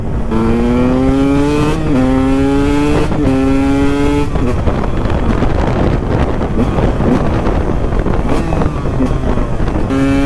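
A KTM 125 EXC two-stroke dirt bike fitted with an FMF Shorty exhaust revs loudly, rising and falling in pitch several times and then settling into a rough, gusty roar with wind buffeting the microphone, and no one speaking.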